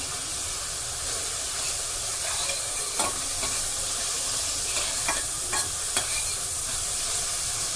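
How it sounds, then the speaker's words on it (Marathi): A spoonful of ginger garlic paste fries in hot oil over a medium flame for an Agri-style mackerel curry, producing a steady hissing sizzle broken by sharp spoon scrapes and taps. "तेल गरम झालेलं आहे आता आपण त्यामध्ये एक चमचा आलं लसणाची पेस्ट घातलेली आहे आलं लसणाची पेस्ट आपल्याला परतून घ्यायची आहे"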